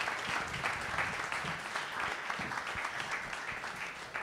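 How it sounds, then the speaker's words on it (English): An audience at a hip-hop health panel at Fotografiska in New York claps steadily for the panelists, a dense sustained round of applause without talk. "let's give her a round of applause to this incredible panel"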